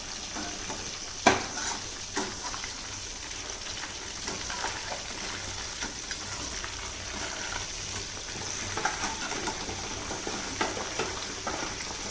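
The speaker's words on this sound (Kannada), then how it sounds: "ನಾಟ್ ಬ್ಯಾಟರ್ ಬಟ್ ಮಸಾಲೆ ರೆಡಿ ಮಾಡಿರೋದು ಇಲ್ಲಿ ಫ್ರೈ ಆಗ್ತಾ ಇದೆ." Mushroom masala frying in a pan, a steady bright sizzle throughout, broken by sharp scraping knocks as it is stirred, fairly quiet and with no talk.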